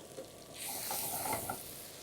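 A ground paste with chili powder sautés in a pan while egg kothu poriyal is being made, giving a short, soft, steady sizzle that grows slightly fuller partway through.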